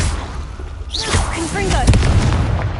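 In Hogwarts Legacy, a Confringo blast spell fires with a rising whooshing, sparkling sweep, then bursts into a booming explosion with crackling tails and a low rumble.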